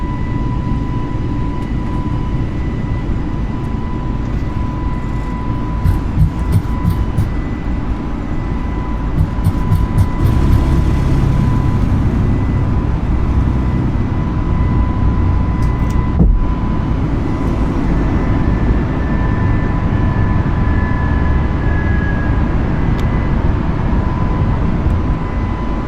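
Sustained jet engine roar from an Airbus A320 on its takeoff run in Microsoft Flight Simulator 2020, a steady broadband rumble with a faint whine that swells slightly partway through, heard alone without speech.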